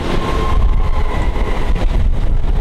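A Howrah–Arambagh local train rushes along at high speed, with a loud, steady roar and rumble of wheels on rails heard from on board, unbroken throughout.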